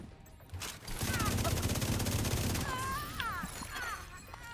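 Rapid gunfire bursts in a video game firefight, a loud dense fusillade filling most of the clip under shouted voices and game sounds.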